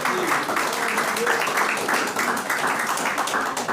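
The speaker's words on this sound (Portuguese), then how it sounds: "Pode aplaudir Jesus bem forte nesta noite" A church congregation applauds during a Portuguese-language evening worship service, a dense, sustained wash of many hands clapping at once, with voices mingled in.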